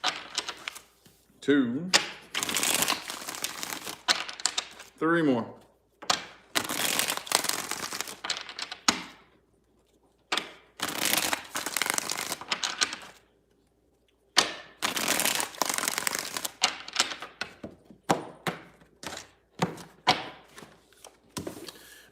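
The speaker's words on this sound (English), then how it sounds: "Let's get 5 shuffles." Tarot cards being shuffled in a series of crisp riffling bursts separated by short pauses, with a voice speaking briefly between them.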